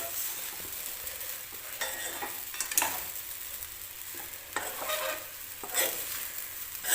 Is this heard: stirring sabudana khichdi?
yes